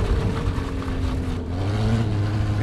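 An onboard view of a prototype race car at the Antoing Cross Festival 2016, accelerating hard down a slope: a loud, close engine drone holds steady with rising tonal whine and rough rumble, without talk.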